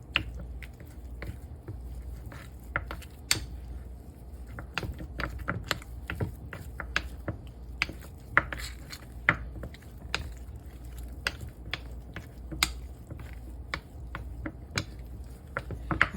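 Peppermint cookie filling being stirred by hand with green food coloring gel and peppermint extract, a series of close, sharp scraping and tapping clicks in an irregular rhythm against a quiet background.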